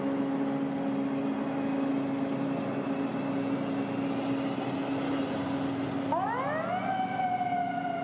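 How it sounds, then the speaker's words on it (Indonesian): A toy fire truck sounds a steady electronic siren tone and then switches to a rising, wailing siren sweep. It is heard close, alone and without talking. "Wow, lihat ada truk pemadam kebakaran."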